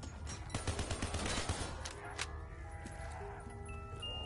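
A rapid burst of gunfire rattles through a Kino zombies match, dense and quick for the first two seconds before thinning into scattered shots and electronic game tones.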